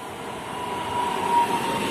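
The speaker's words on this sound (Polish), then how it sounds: "A tu wjeżdża pociąg Regio relacji Świnoujście, Szczecin Główny" A Regio regional train bound for Szczecin Główny rolls into Szczecin Dąbie station, a low steady rumble of wheels and motor with a faint thin tone rising midway.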